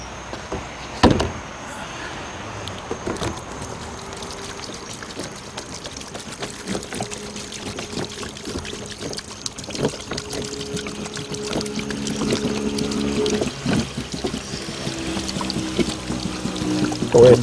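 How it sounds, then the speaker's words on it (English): Distilled water poured over a Bally Midway arcade circuit board in a card cage, a continuous trickling splash with a knock near the start, close and steady. "Go ahead and give it a bath in distilled water."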